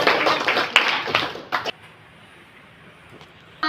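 Classroom students give a short burst of applause lasting under two seconds, moderately loud, then the room falls to a quiet hum with a faint clap near the end.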